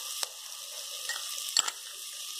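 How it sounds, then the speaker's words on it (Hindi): Homemade ginger garlic paste going into a hot pan for veg pulao, a soft continuous sizzle with a few faint clicks and scrapes, no voices. "इसमें डाल देंगे हम अदरक लहसुन का पेस्ट"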